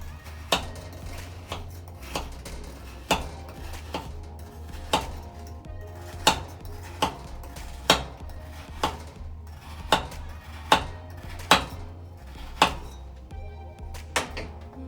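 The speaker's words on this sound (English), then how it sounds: "I'm going to chop up 1 banana." A knife chops through a banana on a cutting board, a dozen or so crisp, fairly regular knocks close by in a quiet kitchen.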